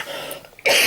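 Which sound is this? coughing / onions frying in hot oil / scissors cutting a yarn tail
coughing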